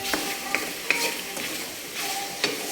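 Chicken sinigang stirred in a pot, a soft simmering sizzle with several light clinks and scrapes of a spoon against the pot, close and unhurried.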